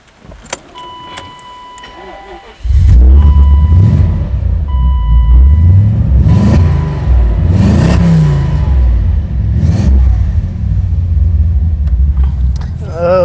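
A BMW E31 840i fitted with AC Schnitzer parts cranks and fires up after a quiet moment, then its exhaust settles into a loud, deep, steady rumble with a few revs swelling and easing.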